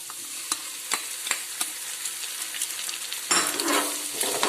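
Egg frying with garlic in a pan while being stirred: sharp scrapes and spatula clicks over a steady sizzle, with a louder burst of frying toward the end and no voices.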